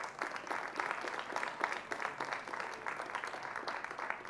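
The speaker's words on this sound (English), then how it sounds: "let's give her a round of applause as she makes her way to the stage" Audience applause at an event on music in Kenya's general elections, a steady crowd of many hands clapping at moderate distance, sustained evenly throughout.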